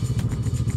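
A 2023 Morini Seiemmezzo 6 1/2 motorcycle engine idles with a low, even, pulsing thump, heard close and steady over a brief moment.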